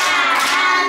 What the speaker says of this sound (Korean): 우리 수빈이한테 칭찬의 박수 한번 해보자